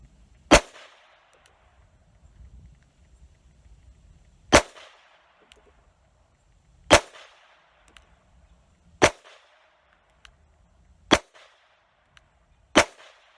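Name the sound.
Beretta 950bs .25 ACP pistol shots at steel target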